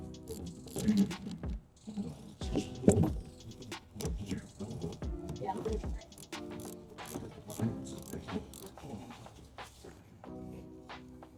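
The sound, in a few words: wrench turning nut on Scion xB rear shock absorber bolt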